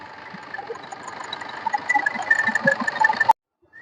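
A 2012 Tata Indigo Manza car engine idling steadily with a fairly loud mid-range hum that builds slightly, then cuts off abruptly near the end, leaving near silence.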